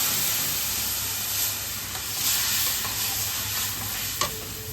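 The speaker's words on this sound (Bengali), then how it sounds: "এবার যে ঘোলটা বানিয়ে রেখেছিলাম সেটা দিয়ে দিচ্ছি।" Buttermilk is poured into a hot pan of curry leaves for besan kadhi, giving a steady, fairly loud sizzling hiss with a small click near the end.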